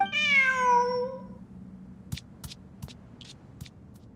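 A cat in Genshin Impact gives one clear, drawn-out meow close by, followed by a few faint ticks and soft taps over a low hum.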